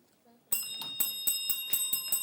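Buzzer bell on a televised high school quiz show, ringing in a rapid series of sharp metallic strikes right after a brief quiet voice.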